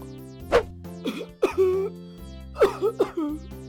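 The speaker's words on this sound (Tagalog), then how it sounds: "May ubo ka ba?" Several harsh coughs and throat-clearing sounds come in short bursts, close and fairly loud, over a steady low background tone.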